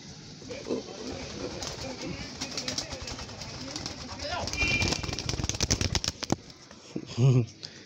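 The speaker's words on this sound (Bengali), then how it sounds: "আমাদের একটা ঘুঘু পাখি কিন্তু বের হয়ে গেছে" A dove on a small hobby bird farm gives a short, low coo near the end, over a busy background of rustling, fluttering and clatter.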